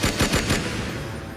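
Several gunshots ring out in rapid succession in a parking lot, four loud sharp bangs in the first half second, then a fading echoing tail.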